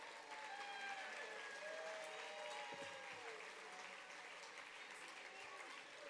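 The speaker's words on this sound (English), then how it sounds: "One big round of applause." Sustained applause from a crowd at a rock and roll hall of fame ceremony in South Dakota, a dense steady clapping that fills the whole stretch without pause.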